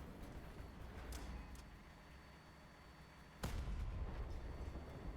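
Narwhal cryo cannons fire in the Crossout vehicle combat game: one sharp, heavy cannon blast stands out over a steady low rumble, with a couple of fainter shots before it.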